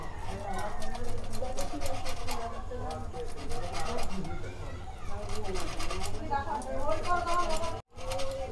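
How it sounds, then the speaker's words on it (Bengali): A boiled egg white is rubbed against a grater in a village kitchen, producing a steady scratchy rasping of repeated strokes with a brief pause near the end, while someone talks over it. "এবার এটা ডিমের সাদা অংশটা আমরা ঘষে নেব।"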